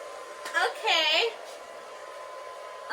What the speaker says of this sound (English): I used the hairdryer on a low setting so that I could kind of control where they were pushing